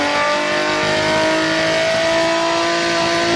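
Naturally aspirated Honda V6 in an Acura TL Type S revving hard, a loud sustained engine howl with steady harmonic whine running the whole time, close and without voices.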